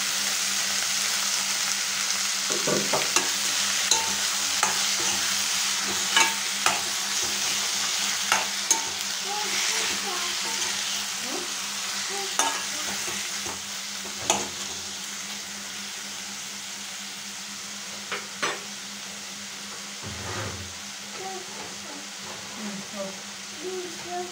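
Tomatoes sizzle and fry with ginger garlic paste in a pan for an aratikaya and green peas curry, a steady hiss broken by repeated spoon scrapes and stirring knocks, with a voice speaking at times.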